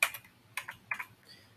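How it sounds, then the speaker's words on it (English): Short keyboard shortcut presses on a computer keyboard during 3D modeling work, heard as three or four quiet, crisp clicks spaced about half a second apart, alone with a faint low hum behind. "That's a short key on the keyboard"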